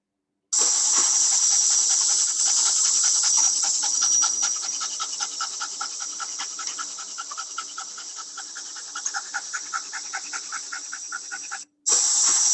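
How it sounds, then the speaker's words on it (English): A dog pants rapidly and rhythmically close by, a breathy hissing pulse that continues steadily for about eleven seconds before a brief pause, with no voices. "look at the way this dog breathes, and just hear this sound"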